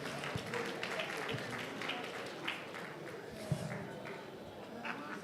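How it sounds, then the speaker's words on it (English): Audience applause after a guest is introduced at a June 12 lecture event, a steady, dense wash of clapping throughout, moderately distant, with a few sharper claps standing out. "A round of applause for him, ladies and gentlemen"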